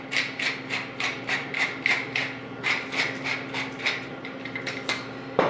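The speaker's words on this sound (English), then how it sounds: "I put them in my pepper grinder" A pepper grinder cranks organic black peppercorns in a kitchen, giving a quiet rhythmic series of short gritty grinding bursts, close by with no talk.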